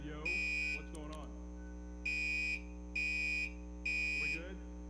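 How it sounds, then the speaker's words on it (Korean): A building alarm set off by mistake during a church gathering, sounding as repeated loud electronic buzzer bursts in a steady on-off pattern, about four pulses, with voices talking underneath. "잘못 알람이 눌러진 것 같아요, 지금."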